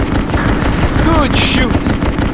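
Rapid warship machine-gun fire rattles continuously in the naval combat video game Naval Assault: The Killing Tide on Xbox 360, loud and dense, with brief whistling tones and other battle noise layered over the bursts.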